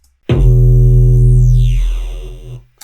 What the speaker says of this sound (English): there's like a big, punchy, crazy sounding sub-kick thing